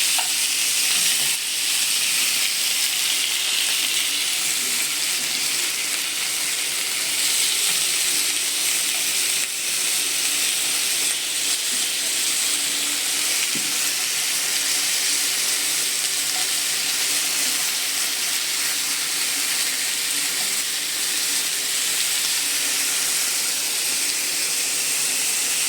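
Chicken pieces for Batangueño-style adobo frying in a pan, a loud, steady sizzle that holds without break throughout, with no voices over it.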